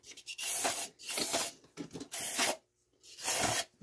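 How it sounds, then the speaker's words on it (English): Short, loud bursts of spray hiss in four separate rushes with brief pauses between them, as gunk is flushed out of a New Yorker boiler during cleaning. "So you're gonna spray that out."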